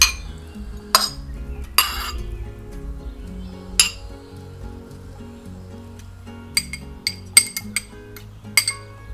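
Tomatoes, cucumbers, eggs and onions transferred into a deep glass bowl, giving several sharp clinks and taps of utensils against glass at irregular moments, with softer scraping and shuffling between them, close and without talk.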